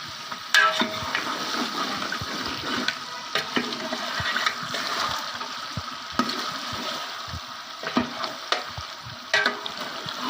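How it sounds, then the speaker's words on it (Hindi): Mutton korma with roasted cumin frying in a pan, sizzling continuously while a spoon stirs and scrapes through it in irregular strokes, close and moderately quiet. "थोड़ी देर इसे भूनेंगे फिर उतार लेंगे।"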